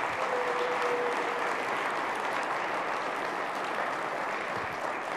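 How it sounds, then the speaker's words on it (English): Steady, dense audience applause at a community gathering, sustained and even at moderate volume throughout, with no voices over it. "So let's give them a round of applause."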